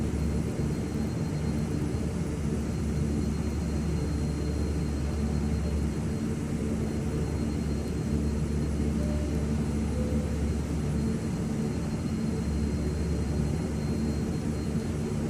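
A King Air 350 turboprop sits idling on the ramp in a flight simulator, its engine giving a constant whining drone over a steady low hum, with no talk over it.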